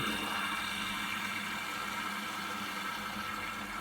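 A washing machine takes on water during its wash cycle, a steady rushing, hissing flow running unbroken and fairly loud throughout, with no voices.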